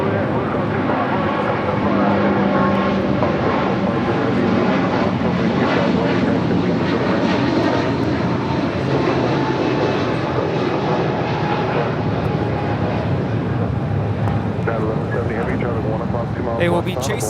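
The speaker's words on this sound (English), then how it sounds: "1170 now rolling, headed out to Honolulu on this 777-200." A Boeing 777-200 bound for Honolulu rolls for takeoff at LAX, its jet engines producing a loud, continuous roar that fills the whole stretch, with voices faintly audible beneath it.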